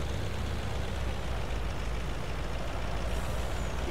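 Air brakes of a truck in the Farming Simulator 19 video game give a loud, steady hiss with a low rumble beneath, continuous and unbroken.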